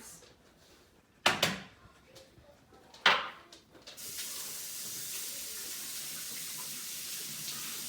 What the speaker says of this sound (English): I'm just going to set this to the side and wash my hands